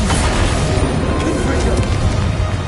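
A dense, loud Bombarda spell explosion in Hogwarts Legacy, a sustained booming roar that fills the short moment.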